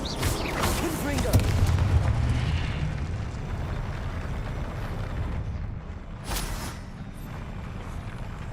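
Confringo explosive spell blasts in the Hogwarts Legacy video game, with booming bursts and a sharp crack near the end, set against continuous game noise and voice.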